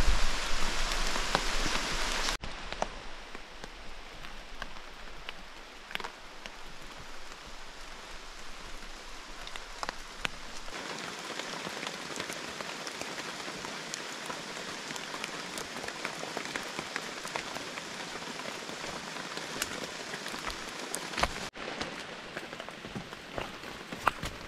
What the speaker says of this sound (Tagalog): Oh guys, lumakas na yung ulan.